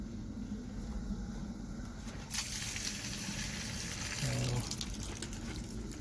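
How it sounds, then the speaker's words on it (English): Excess water from soaked wood chips for a rib smoker splashes and drains in a continuous gushing wash that swells midway, with soft background noise throughout and no clear talking. "Let's get some of the water off of there."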